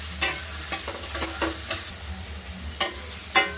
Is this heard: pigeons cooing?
no